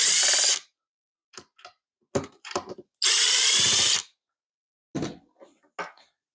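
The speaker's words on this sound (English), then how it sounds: "Let's take out the screws." A power drill removes screws, with two loud, close whirring bursts of about half a second and one second. Between them come short clicks and knocks of handling and the drill's trigger.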